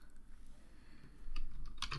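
Quiet computer keyboard typing while editing text in Revit: a few soft scattered keystrokes, then a quicker burst of louder clicks near the end, close and alone.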